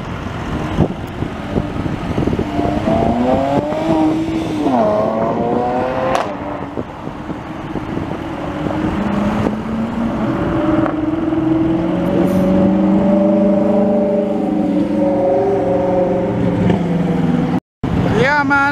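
A 1969 Ford Mustang cruises through Montreal streets on Grand Prix weekend, its engine revving up and dropping through several gear changes, loud and close, with traffic around it.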